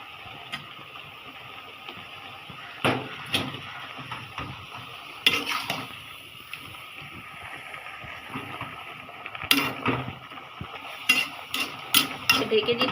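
A pot of boiled greens cooks with green chilies and onion on a stormy day. A soft bubbling hiss runs under scattered scrapes and clinks of stirring that sharpen toward the end.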